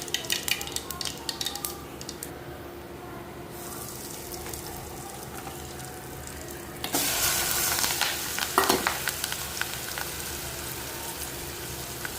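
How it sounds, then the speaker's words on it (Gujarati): Tempering spices are dropped into hot oil in a village kitchen. Quieter clatter and trickling come first, then a sudden loud, sustained hiss of sizzling takes over for the second half. "ધીરે ધીરે ફેને હહડતું તેલમાં તેલમાં હમ સંભારો વઘાર નાખીએ"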